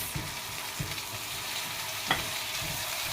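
Chicken liver and gizzards fry with golden onions in a pan, a steady sizzle broken by a few stirring scrapes and one sharp spatter, with no talking.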